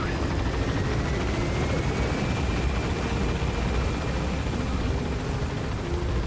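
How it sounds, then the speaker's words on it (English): A helicopter in Metal Gear Solid V: The Phantom Pain gives a loud, continuous rotor roar and engine whine, steady and close throughout, with no talk. "they see me go in the helicopter"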